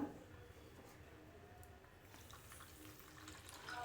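Semolina (rava) is washed by hand in a bowl of water for making papad, giving a soft, steady sloshing and swirling of liquid, faint and close, with no voices.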